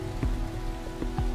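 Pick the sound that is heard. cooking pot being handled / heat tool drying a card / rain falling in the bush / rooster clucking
rain falling in the bush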